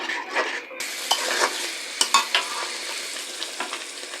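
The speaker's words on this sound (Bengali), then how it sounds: "এখন সবগুলো উপকরণকে আমি খুব ভালোভাবে কষাবো।" Chicken being stir-fried with spices such as coriander powder for shahi chicken rezala: a constant pan sizzle punctuated by sharp, irregular spatula scrapes and knocks, with no voices.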